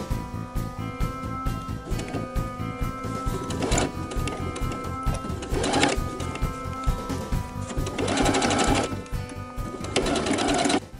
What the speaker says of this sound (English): So you're going to slide right under your presser foot like this, and then sew in a 1/4 inch.